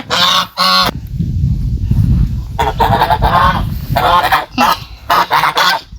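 Loud, close geese honk repeatedly in harsh bursts, with a rumbling low noise between calls.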